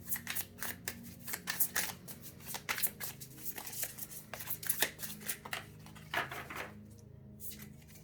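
A tarot deck being shuffled by hand, with rapid crisp riffling and flicking of cards in quick bursts, close and fairly quiet, ending in a short pause.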